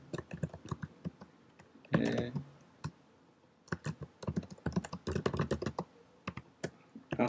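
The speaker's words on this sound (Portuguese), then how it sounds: "A seguir pressiono Enter e ele continuaria digitando comandos aqui." Computer keyboard typing in short irregular bursts of clicks, with one louder cluster of keystrokes partway through, fairly close and clear with no talking over it.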